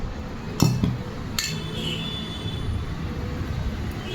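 Sabudana is stirred in a bowl with coarsely crushed peanuts and green chillies, giving a couple of sharp utensil clinks against the bowl followed by soft, low scraping and stirring.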